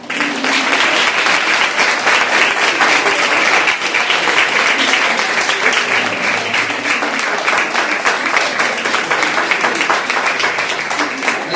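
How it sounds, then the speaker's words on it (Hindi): A church congregation claps steadily during worship, a dense, loud, sustained applause filling the whole stretch without a break. "ताली बजा सकते हैं।"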